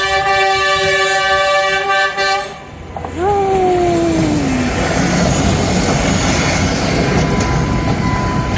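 A train horn blasts several long notes, then a train rumbles steadily past close by in the University District of the Universidad de Costa Rica, a loud continuous roar with a fading whistle tone.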